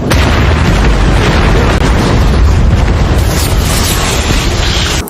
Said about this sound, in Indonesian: sehingga menyadari kapal ini akan meledak